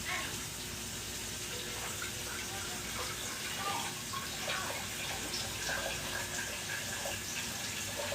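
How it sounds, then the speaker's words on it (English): Tap water runs into a 20-ounce Hydro jug in a home kitchen, a steady, fairly quiet gushing stream that lasts several seconds. "This is the 20-ounce hydro jug. So let's fill it up."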